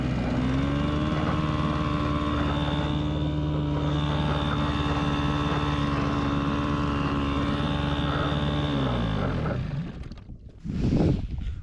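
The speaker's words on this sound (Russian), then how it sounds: "Что-то случилось с мотором." A small boat outboard motor running badly on a river, a loud steady drone with harsh harmonics that drops off and sputters near the end before a brief noisy burst.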